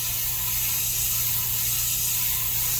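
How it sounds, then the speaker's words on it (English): A paint spray gun sprays paint in a steady, continuous hiss that runs unbroken and fairly loud throughout, with a low hum underneath. "I start the spray on top of on the copy, so I get the paint flowing first"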